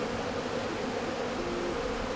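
Honeybees buzz steadily through an open-hive inspection during queen-rearing preparations, a dense, continuous close hum with no talking over it.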